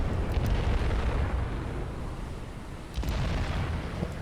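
Heavy battleship guns fire in the Battleship Command naval video game, a sustained deep rumbling boom that swells and rolls on, with a fresh blast near the end.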